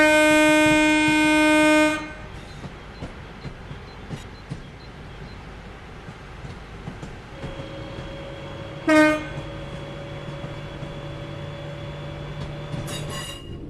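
Train in Train Sim World 4 coasting on level ground, beginning with a loud sustained horn chord that stops, then a low rumble with rhythmic wheel clicks, a brief squeal and steady tonal hum.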